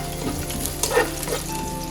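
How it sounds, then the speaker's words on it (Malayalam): Onion and whole spices (cinnamon stick, cloves, cardamom) for biryani stir and fry in a pot: a steady close sizzle with scraping stirs throughout, louder stirring bumps near the middle and end, and no voices. "എന്നിട്ട് വീണ്ടും ഒന്ന് ശരിക്കും ഒന്ന് മിക്സാക്കി കൊടുക്കാം."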